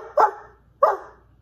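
A voice imitates a dog, giving two loud, close bark-like yelps about half a second apart, with nothing else around them.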